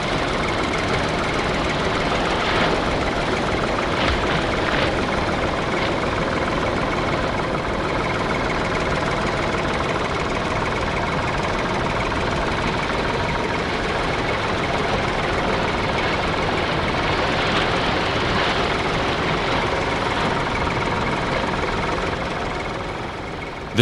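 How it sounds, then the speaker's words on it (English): A steady tractor engine drones continuously, loud and close, with a low rumbling hum and a faint knocking texture throughout, working in scorching heat. "Tractors working in this scorching temperature usually have very short lifespan"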